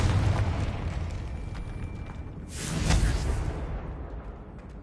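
A Confringo fire spell blasts in a Harry Potter video game, giving a swelling whooshing explosion over steady rumbling game noise, then settling back down.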